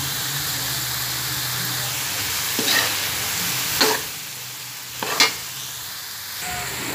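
Whole kernel corn stir-fried in a hot pan, a steady sizzle with a few louder scraping stirs, close and alone with no talk.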